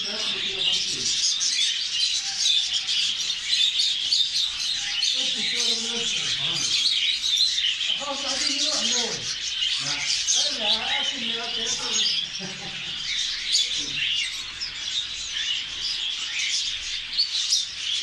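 Male canaries at a bird shop in Buraidah, Al-Qassim, Saudi Arabia, chirping and trilling continuously in a dense chorus, with someone speaking over the birdsong.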